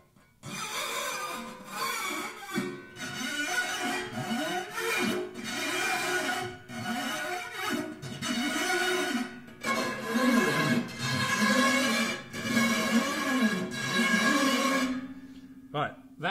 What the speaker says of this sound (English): I've got a 2 pence piece here and I'm going to scrape it up and down the strings.